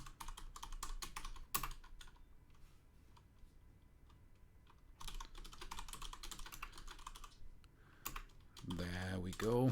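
Bursts of clacking keystrokes on a mechanical computer keyboard, close and crisp, come in two runs separated by a quieter gap, and a voice begins speaking at the very end.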